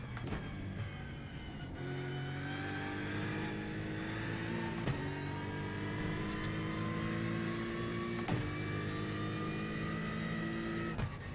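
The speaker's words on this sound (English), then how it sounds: "I love the sound of the air shifter in the Aston Martin" Aston Martin race car in the iRacing sim at Bathurst, a steady loud engine drone with sharp air-shifter cracks at each gear change, two clear shift snaps mid-run.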